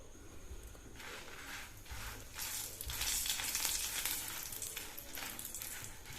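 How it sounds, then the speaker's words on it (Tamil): Dried red chillies frying in sesame oil give a steady close sizzle with brief rustles of stirring, growing louder partway through and then holding level, with no talk. "இதையும் பொன்னிறமாக வறுத்து எடுத்துக்கணும்."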